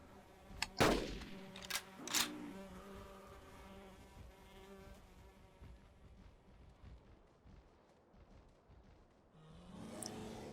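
Two sharp rifle shots ring out a second apart, loud and close, in the dinosaur-hunting game Carnivores: Dinosaur Hunt, then fade into a low ambient wilderness hum with faint insect-like buzzing.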